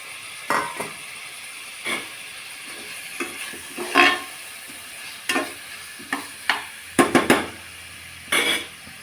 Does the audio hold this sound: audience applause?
no